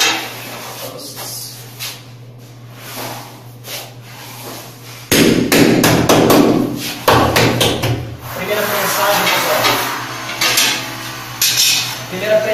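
Hammer tapping a wall tile into place during bathroom tiling, several sharp close knocks and clatters in irregular bursts, with a person talking in between.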